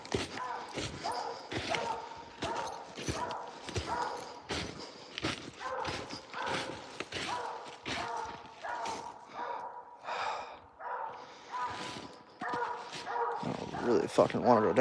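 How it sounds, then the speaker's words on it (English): A hunting dog barks repeatedly while chasing raccoons at night, with sharp barks recurring in a steady rhythm under ongoing talk and footsteps through brush. "We're chasing after raccoons with a dog."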